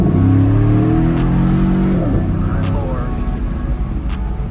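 A 2015 Chevrolet Silverado fitted with a Borla S-Type cat-back exhaust accelerates hard, its loud, close engine note climbing in pitch for about two seconds before shifting and settling into a rougher, lower rumble.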